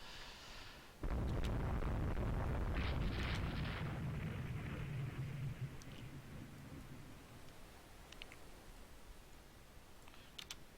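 Naval gunfire and explosions in the warship battle game Rule the Waves 2, with torpedo tubes hit and torpedoes exploding: a sudden loud booming blast followed by a long rumbling roar that slowly fades, with faint crackles, no talk.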